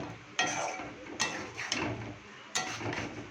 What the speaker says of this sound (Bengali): হলুদ, একটু নুন, মশলাটা একটু কষানো হবে।